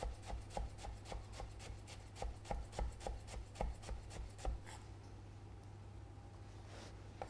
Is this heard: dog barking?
no